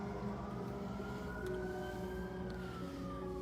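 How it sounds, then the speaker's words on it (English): An emergency vehicle siren, an ambulance or fire truck, wails in a slow rising and falling tone some distance away, over a steady background hum with no talk. "looks like we got an ambulance passing up my way"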